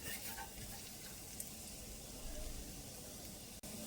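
Garlic fries in a pan for a green bean stir-fry. A faint, steady hiss of sizzling oil runs throughout, with a slight swell partway through and a brief clatter near the end.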